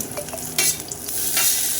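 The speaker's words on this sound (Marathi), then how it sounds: "मुगाची डाळ जी मी शिजवली होती ती थोडंसं पाणी घालून या फोडणीमध्ये घातली" Cooked moong dal thinned with a little water is stirred into a tempering sizzling loudly in hot oil, a bright frying hiss swelling near the end.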